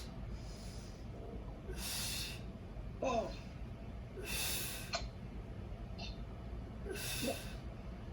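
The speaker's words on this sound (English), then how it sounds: "Breathe in and breathe out." Repeated breaths during a Pilates exercise, several strong exhales spaced a few seconds apart, close and fairly loud over a low steady background hum.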